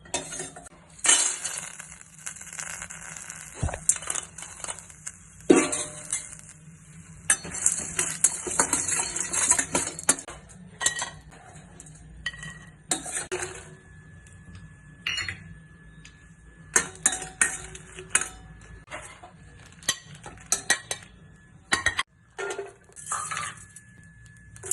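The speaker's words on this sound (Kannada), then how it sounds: "ಡ್ರೈ ರೋಸ್ಟ್ ಮಾಡ್ಕೊಳ್ಳಿ." Pumpkin seeds with dried coconut, garlic, chilli, tamarind, curry leaves and cumin dry roasted in a pan: intermittent bursts of scraping and clinking as a utensil stirs against the metal, separated by quiet gaps.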